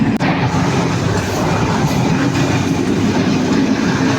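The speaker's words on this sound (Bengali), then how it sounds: "ট্রেনটা ছাড়ছে, দেখেন আমার ছেলে খালি দেখতেছে কত দূর ট্রেনটা চলছে" The Dhumketu Express, an Eid train in Bangladesh, pulls out and runs along the track, heard from inside a carriage as a loud, continuous rumble with rhythmic clickety-clack from the wheels.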